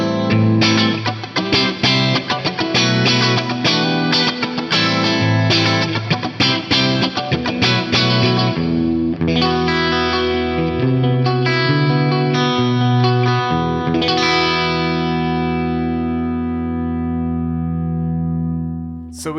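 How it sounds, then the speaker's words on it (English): Electric guitar played through a rack amp rig with the gain raised, carrying distortion, compression, reverb and echo; a loud, sustained run of chords and notes ringing out alone before decaying at the end. "I'll also turn the gain up just a little bit."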